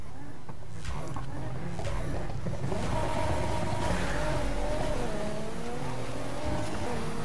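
A heavily tuned race car roars through a street race in Need for Speed Heat, its engine holding a steady high-revving drone with rising pitch and some tire noise, loud and continuous throughout.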